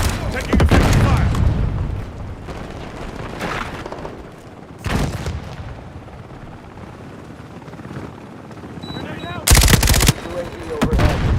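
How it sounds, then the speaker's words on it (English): Gunfire under effective fire in a combat setting, with bursts of machine-gun fire and booming shots. Loud clusters come at the start, around five seconds and near the end, with a rumbling, helicopter-like drone and battle noise between them. "Taking effective fire."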